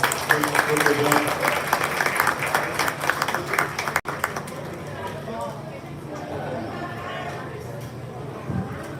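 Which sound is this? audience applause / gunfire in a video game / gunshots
audience applause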